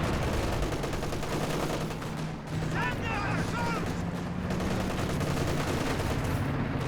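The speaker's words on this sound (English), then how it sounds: "Looks like he's gone for a base barrage." Dense, continuous gunfire and heavy explosions from an artillery base barrage in the World War II strategy game Company of Heroes 2, loud and unbroken throughout with a brief lull partway, a faint voice mixed in.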